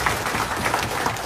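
An audience claps hands at a public meeting in Assam where a leader has been addressing the Karbi Anglong issue, a steady dense patter of many hands filling the short stretch without a break.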